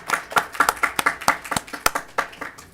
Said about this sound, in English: Y'all could give them a quick round of applause.